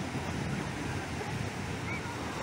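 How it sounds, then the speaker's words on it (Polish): Sea water surging into a yacht stranded on a sandbank at Ustka during a rescue attempt, a constant rushing wash of surf mixed with wind buffeting the microphone, at moderate loudness. "teraz woda wlewa się z drugiej strony"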